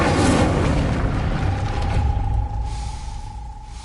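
Incendio fire spell cast in Hogwarts Legacy, a loud whooshing burst of flame with deep rumbling boom that roars at once and slowly fades over a few seconds, with a faint ringing tone trailing underneath.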